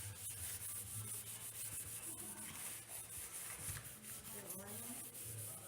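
Bundled wood shavings rubbed against a wooden surface to burnish it by hand, a steady, close, soft scraping swish with back-and-forth strokes running without pause.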